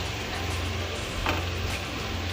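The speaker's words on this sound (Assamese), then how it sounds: "কিছু সময় ভাজি লোৱাৰ পিছত এতিয়া আমি ইয়াতে আলু আৰু কুটি লোৱা পচলাখিনি দি দিম" Potatoes and chopped banana tree pulp hit a pan of frying chicken, giving a steady, close broadband sizzle that holds evenly throughout with no voices.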